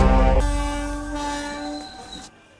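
A train at a railway station sounds a loud, sustained horn blast lasting about two seconds over a deep rolling rumble, close and dominant before cutting off.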